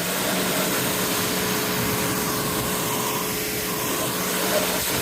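Pressure washer rinsing a car panel, a continuous loud hissing spray with a steady motor drone underneath, close and unbroken, with no talk.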